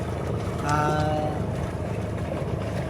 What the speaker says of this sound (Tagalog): dito na tayo sa bangka ni Arman.